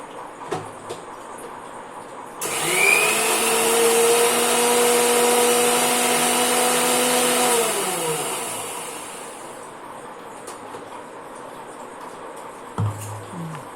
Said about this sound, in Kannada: ಅದನ್ನು ಮಿಕ್ಸಿಲಿ ಒಂದೆರಡು ಸುತ್ತು ಗ್ರೈಂಡ್ ಮಾಡ್ಕೋಬೇಕು